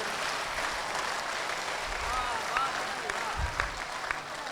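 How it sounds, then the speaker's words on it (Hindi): Audience applause at a Hindi kavi sammelan poetry gathering, a steady, dense wash of many hands clapping together that holds evenly throughout with no voices over it. "एक बार दोनों हाथ ऊपर उठाकर आशीर्वाद की तालियां दीजिए मुझे"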